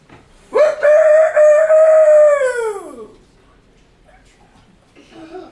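Rooster crowing in a farmyard, one loud, close, drawn-out crow lasting about two and a half seconds that falls off at the end, followed by quiet with faint background sounds.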